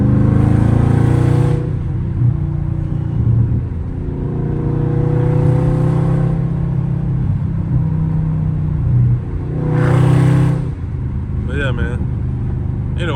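A Dodge Charger Scat Pack R/T rolls past and hits the gas, its loud exhaust rumbling and surging as it accelerates by, with people talking over the engine throughout.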